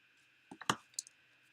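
Scissors cutting up the middle and in from the corners of paper for a handmade rain-themed card: a few quick, close snips in two short bursts against a quiet room.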